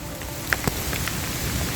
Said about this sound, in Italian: Sta piovendo di brutto, ora esco dal bosco